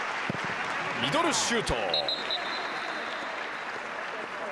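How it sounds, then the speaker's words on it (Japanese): Supporters applaud steadily in the stands at a Tokyo Verdy versus Fagiano Okayama J2 League football match in 2020, a broad wash of clapping under a match commentator's voice, with a sharp thump partway through. "ヴェルディのサポーターから大きな拍手が送られています"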